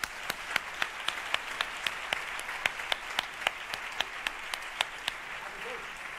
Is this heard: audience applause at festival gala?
yes